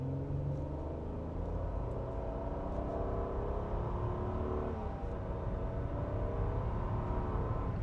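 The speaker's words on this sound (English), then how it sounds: "When the light turns green, we'll do an acceleration test here." A 2017 Nissan Murano Platinum AWD with a CVT accelerates from a stop, its engine a steady low rumble and whir heard from inside the cabin, rising gradually in pitch.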